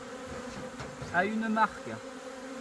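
Honeybees buzz steadily at close range while being shaken into a bowl for a varroa mite count, with a louder burst of droning as some fly near, and a brief voice underneath.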